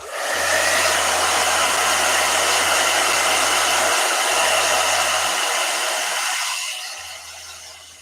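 A blow dryer runs steadily on a watercolor painting, a loud continuous whir with a low hum that cuts out briefly around the middle and near the end before winding down, heard alone without talk.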